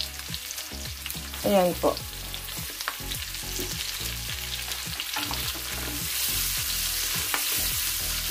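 White onion frying and sizzling in hot oil, with a steady crackling hiss and scattered sharp pops as it spatters, the sizzle swelling louder toward the end; a voice speaks briefly near the start.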